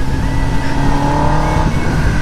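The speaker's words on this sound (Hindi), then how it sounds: "आज तो थ्रॉटल फुल डाला हुआ है, आज नहीं रुकने वाला कोई।" A Kawasaki ZX-10R motorcycle engine held at full throttle, a loud, steady high-revving drone with layered engine harmonics that barely waver across the whole stretch, close by and without talk.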